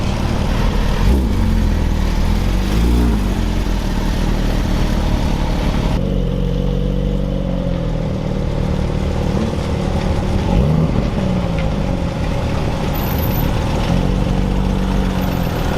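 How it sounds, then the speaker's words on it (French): A pair of grey Porsches, a GT3 and a Cayman Spider, roll in at a Lyon charity rally, their engines a steady near idle and low rumble that swells slightly as they pass, over constant crowd and ambient noise. "Et la boîte de Porsche qui arrive, une GT3 et une Cayman Spider si je me trompe."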